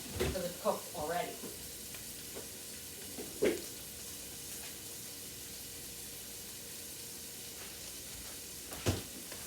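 Already-cooked shrimp heat in a pan on a home kitchen stove, a soft, steady sizzle with a few louder clattering stirs near the start, the middle and the end.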